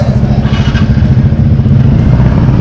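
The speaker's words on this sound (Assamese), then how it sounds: "চ' আমিৰৰ বাইকখন আগত ওলাই গ'ল" Motorcycle engine on a road trip toward Ladakh, a loud close continuous rumble with steady low throb and mild clatter, wind-buffeted, with no clear talk.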